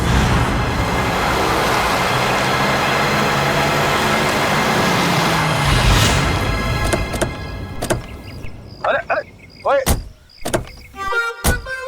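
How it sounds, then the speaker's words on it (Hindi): A car speeds along, its engine and rushing road noise loud and steady for about eight seconds, then fading out into brief door and mechanical clunks with a few quick knocks near the end. "इतना फास्ट गाड़ी चलाता है"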